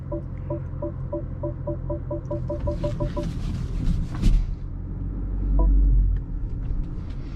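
BMW X1 M35i setting off around the block, a low engine rumble that swells as it pulls away, with a repeated electronic chime early on and no talking.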